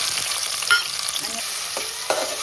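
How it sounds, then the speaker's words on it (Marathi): Garlic and tomatoes fry in hot oil for a curry, giving a steady, close sizzle with a few sharper crackles and stirring clinks. "लसूण टाकलेलं आहे, आता मी तांबाट टाकून घेते."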